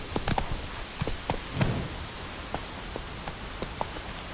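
Horse hooves in The Witcher 3 clip-clop in an uneven trot, fairly close but soft, over a steady rainy hiss, with no talk.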